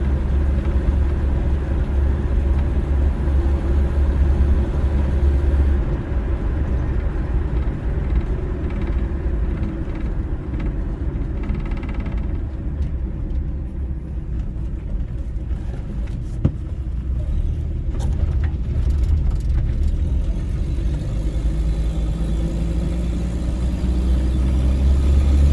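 A 1960 Rambler American on the road gives a steady, loud cabin rumble of engine and tyre noise, holding an even level throughout with no talking.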